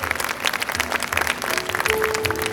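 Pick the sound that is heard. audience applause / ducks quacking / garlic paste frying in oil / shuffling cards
audience applause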